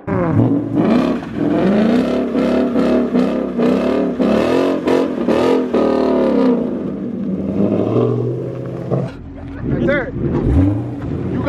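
A Camaro SS and a Mustang 5.0 with unknown mods rev hard at a Montgomery cash-days street race, engines roaring loud and steady with shouting voices over them throughout.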